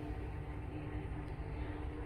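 Four-car metro train approaching a station platform, a low steady rumble and hum of the train drawing in, continuous and fairly faint with no clear talk.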